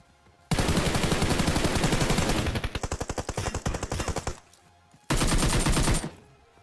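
Rapid automatic gunfire in the battle royale game Battlegrounds (BGMI), loud and close, with a long sustained burst that breaks into distinct rhythmic shots, then a short pause and another dense burst.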